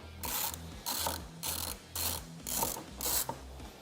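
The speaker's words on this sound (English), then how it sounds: "We're going to go ahead and remove our nut." A ratchet wrench loosening a nut off a stud, heard as six evenly spaced bursts of rapid ratcheting clicks close by, separated by short pauses, with no talk.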